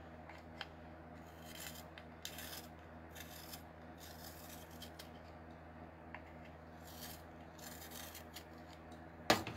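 A colored pencil is sharpened with several separate short bursts of close, gritty grinding spread through an otherwise quiet stretch, ending in a sharp knock.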